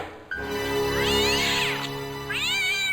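A cat in the Broken Sword adventure game lets out two drawn-out, wavering meows, the first long and rising, the second shorter, close and clear against a faint background.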